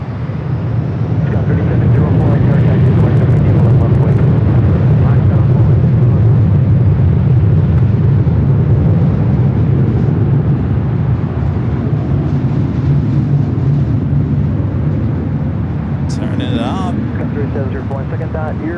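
A jet airliner takes off from Los Angeles International Airport, a loud steady engine roar with strong low rumble sustained throughout, mixed with wind noise and radio-style talk over it.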